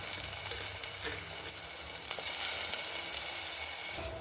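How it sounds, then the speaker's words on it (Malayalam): Tomatoes sizzle and fry in a pan for a coconut-based Kerala kingfish curry, a steady broadband hiss that swells slightly louder partway through, with faint stirring and no voices. "ഇനി ഇതിലേക്ക് തക്കാളി ചേർത്ത് കൊടുക്കാം"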